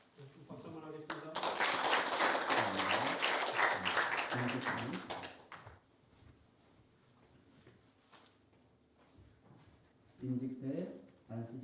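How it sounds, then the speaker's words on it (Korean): A church congregation at an ordination service bursts into loud applause for about four seconds, then it fades as a voice speaks over softer room noise. "박수 한번 하겠습니다."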